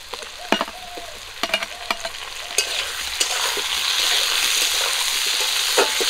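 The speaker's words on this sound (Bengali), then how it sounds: "পেঁয়াজগুলো দিয়ে আবারও কিছুক্ষণ একটু নাড়াচাড়া করব, আর দিয়ে দেবো টমেটো কুচি।" Onion and chopped tomato fry in a pan for a pabda fish curry, a steady sizzle broken by several sharp scrapes and clacks of stirring.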